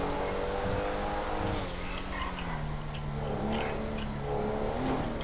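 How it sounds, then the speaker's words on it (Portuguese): A powerful car in GTA 5 pulling away at night, its engine note rising steadily through repeated gear climbs over a continuous rumble, loud and close, with no talking. "A arrancada desse carrão é uma delícia"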